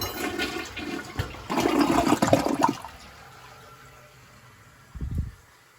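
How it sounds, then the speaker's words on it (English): A newly installed toilet flushes with a loud rushing swirl of water that drains away, leaving a quieter refill trickle and a short gurgle near the end. "One more flush for good luck?"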